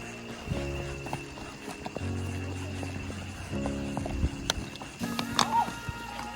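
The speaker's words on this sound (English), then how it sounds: "We're still riding horses" Horse hooves clip-clop in an uneven trot on a horseback ride in Costa Rica, close by, with a steady low rumble underneath and a brief high whinny-like cry near the end.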